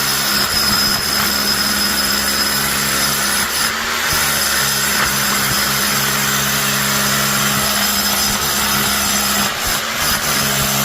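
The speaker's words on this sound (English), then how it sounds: "drill the hole through the center blocks." A drill bores through concrete center blocks outdoors, giving a loud, continuous grinding roar with steady mechanical whine that holds for several seconds, broken by a couple of brief dips.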